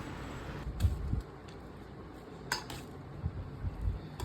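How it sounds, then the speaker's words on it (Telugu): Mango pulihora rice being mixed in a pot for an Ugadi festival meal, with scattered metallic clinks and scrapes of a spoon against the vessel, soft and intermittent, close by. "ఇక్కడైతే మా అబ్బాయి కలుపుతున్నాడు పులిహోర చూసేయండి ఒకసారి"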